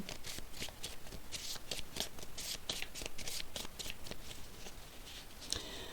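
Oracle cards are handled and laid down one after another, a quick run of crisp papery slaps and shuffling rustles, close and soft, with no voice over them.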